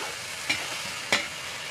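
Unripe papaya stirred in a cooking pan over a low constant sizzle, with two brief scraping strokes of the utensil, close and fairly quiet, no talking.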